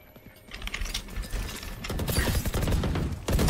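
Phantom rifle fire from the game Valorant, bursts of shots building from about half a second in and growing denser and louder toward the end, with no talking over it.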